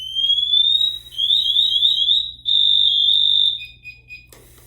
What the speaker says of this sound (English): So that's what it sounds like when the pass alarm is going off